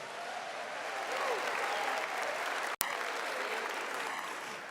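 A crowd at a Catholic Carnival camp gathering claps in steady, sustained applause that fills the room, interrupted by a single sharp click.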